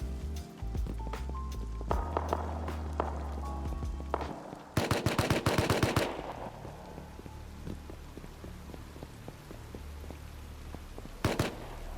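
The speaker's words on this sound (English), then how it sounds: "I heard some gunshots going off at water treatment" Gunfire in the survival video game Rust: a rapid burst of automatic shots midway, then one more short burst near the end, set against quieter game sounds and light clicking.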